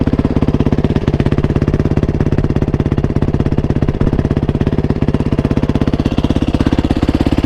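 Yamaha WR450F motorcycle exhaust fitted with a new baffle, a loud, rapid, steady thumping idle, close and continuous throughout.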